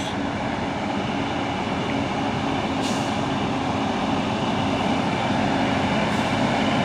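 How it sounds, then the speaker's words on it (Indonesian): Three heavy Fuso dump trucks labor up the Bukit Kodok hill in the morning in a steady, dense diesel roar, continuous and close, with no pauses. "3 unit dump truk Fuso menanjak di tanjakan Bukit Kodok di pagi hari"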